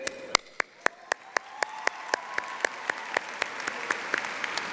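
At a 2014 Cy Creek high school graduation ceremony, sharp hand claps ring out in a steady, evenly spaced rhythm, crisp and fairly close, over a faint background murmur of the crowd.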